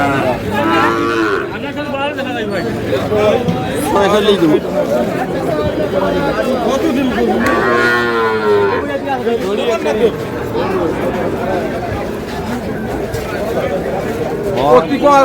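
Cattle moo repeatedly and loudly amid a busy crowd at a cattle market, including a Sahiwal bull calf, with people chattering and talking all around throughout.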